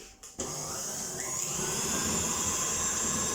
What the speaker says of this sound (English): going to give it another little mix just to finish off